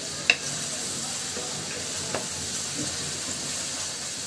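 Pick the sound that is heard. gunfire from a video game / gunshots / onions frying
onions frying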